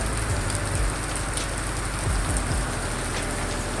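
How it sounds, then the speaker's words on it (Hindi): Heavy rain pours down in a dense, steady hiss of drops hitting surfaces, close and loud throughout the short stretch, with a few low thumps underneath and no voices. "देखिए कितनी तेज़ बारिश हो रही है"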